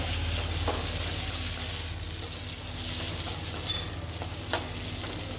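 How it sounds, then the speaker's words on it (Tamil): Green chillies sauté in a pan over a low flame, giving a steady, soft sizzling hiss throughout with a few faint scrapes from stirring, and no talking. "நல்ல சின்ன தீயில வச்சு எல்லாம் வதக்கி எடுத்துக்கலாம்."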